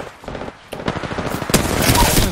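Enemy gunfire in a video game crackles in quick rattling bursts, sparse at first and then growing louder and denser toward the end.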